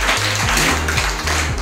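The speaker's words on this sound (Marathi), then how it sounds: "चला जोरदार टाळ्या वाजवा" Applause at a village school cooking contest for nutritious millet dishes, steady dense clapping from a group filling the whole short moment, with no voices standing out.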